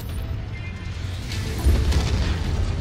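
A Long Tom artillery strike in MechWarrior 5 hitting a medium mech, a loud low boom swelling into rumbling explosion noise over constant battle din.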